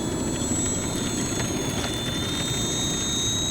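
An H-King Savage Bobber compact STOL RC airplane's electric motor whines at high, steady pitch during takeoff, loud and close, with constant propeller drone throughout.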